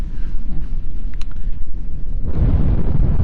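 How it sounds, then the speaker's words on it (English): Explosion aboard a ship in the video game Star Trek Online: a dense, low rumbling roar that swells louder toward the end, with no speech over it. "That was an explosion of sufficient magnitude to cause a breach."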